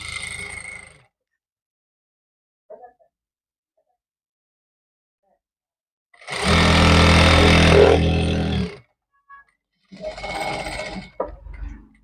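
Sewing machine stitching the side seam of a shirt, with a short burst early on and a loud, steady run of about two seconds, then a few choppy stops and starts amid quiet gaps.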